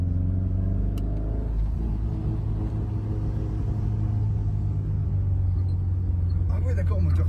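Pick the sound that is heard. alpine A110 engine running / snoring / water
alpine A110 engine running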